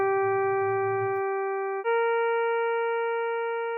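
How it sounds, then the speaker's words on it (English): Two sustained, tempered Indian classical notes synthesized in Matlab, Pancham then Komal Nishad: a clean, buzzy harmonic tone held for under two seconds, then a higher steady tone held for about two seconds. "So Pancham followed by Komal Nishad."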